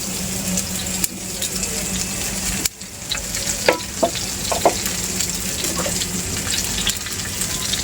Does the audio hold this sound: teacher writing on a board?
no